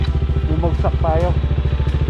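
Motorcycle engine running with a steady, low, pulsing chug throughout, close up and loud, while a voice talks briefly over it.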